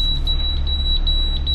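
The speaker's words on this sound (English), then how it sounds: "every time we hit a waypoint, the waypoint alarm goes off" A boat's navigation waypoint alarm sounds as a loud, steady high-pitched electronic tone over a low engine rumble, pulsing slightly for a second and a half.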